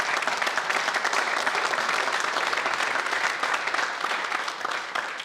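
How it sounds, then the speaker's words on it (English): An audience gives a full, dense round of applause in a hall, a steady wash of many hands clapping loudly throughout without a break. "can we give Jack a round of applause for this"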